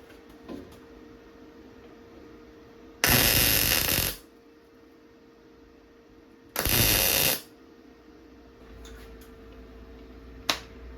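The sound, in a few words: welding metal on a car body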